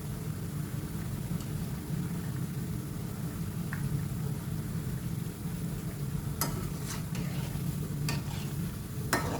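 Khajoor dough pieces deep frying in hot oil, giving a steady, dense sizzle and bubbling throughout, with a few faint clinks near the end and no voices.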